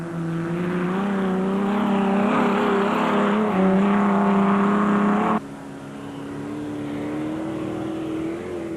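Off-road race vehicles, including a two-wheel-drive Class F Ford Cortina bakkie, racing in the Stokkiesdraai 200, engines droning loudly with rising revs before the sound drops suddenly to a quieter, steadier hum.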